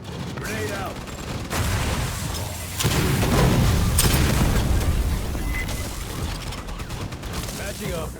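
Grenade blasts and bursts of gunfire from Aliens Fireteam Elite 2 roar in a dense, continuous barrage, with loud booms near three and four seconds and chatter faintly mixed in.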